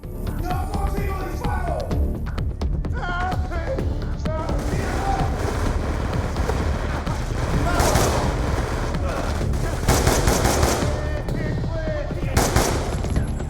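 Call of Duty Black Ops II gameplay gunfire, rapid automatic bursts growing denser and louder after a quieter opening with game sound effects, with talk mixed in.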